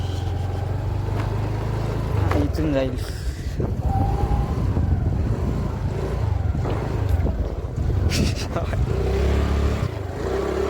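A car rolls and bumps slowly over uneven riverside ground, its engine rumble steady and close under heavy wind buffeting on the microphone, with people talking briefly.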